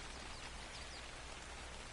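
Heavy rain in Ark: Survival Evolved pours as a dense, even hiss, constant and fairly quiet with no other sounds standing out.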